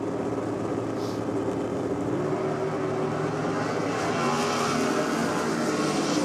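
Supercomp drag race cars, one turbocharged, wind up at the starting line with a loud, continuous engine roar heard from a distance across the strip, and no voices over it.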